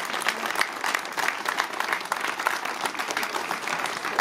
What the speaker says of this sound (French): Merci de toutes et tous les applaudir